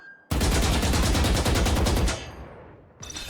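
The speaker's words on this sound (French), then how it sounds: "Touche la cible du milieu avec un tir continu." Sustained automatic gunfire at a practice target in the Valorant tutorial, a loud, rapid burst of evenly spaced shots lasting about two seconds before fading, then a short clatter at the end.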